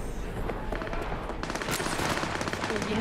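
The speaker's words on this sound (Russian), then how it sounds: "Менты! Стреляют!" Rapid bursts of automatic gunfire from police in the video game Cyberpunk 2077, a dense continuous fusillade of shots that grows louder and harsher midway, with faint speech underneath.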